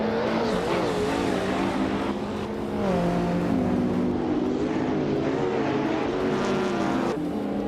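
Race cars, including a 2011 Cadillac CTS-V, launch off the start line in a racing video game with loud continuous engine roar and shifting pitch as they accelerate, no talk over it.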